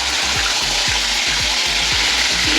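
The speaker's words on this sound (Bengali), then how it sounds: "এবার আমি কপিগুলো ভেজে নেব" Yellow cauliflower florets fry in hot oil with a dense, steady sizzle, and a rhythmic low thumping runs beneath it.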